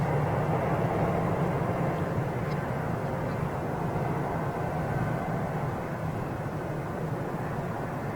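American Airlines jet arriving from Philadelphia and landing on runway 22 right at Boston Logan airport, heard as a steady, loud, broad roar that holds evenly throughout with no talk.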